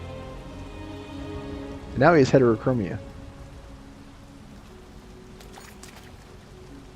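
Steady rain patters continuously in the video game Detroit: Become Human, a soft, even hiss under brief speech from a player.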